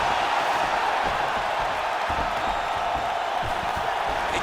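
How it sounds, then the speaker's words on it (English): A steady crowd murmur in an EA Sports UFC 4 fight broadcast, a dense, continuous roar with faint swells and occasional whoops, even in level and without clear peaks. "you hear the crowd react every time they come together"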